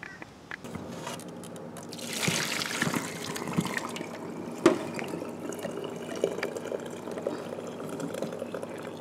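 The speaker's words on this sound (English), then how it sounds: "I drain the water out and I put back on the stove with cover on the high heat" Water from a pot of boiled yuca pours out in a steady, moderately loud stream, with trickles and drips continuing as it drains off.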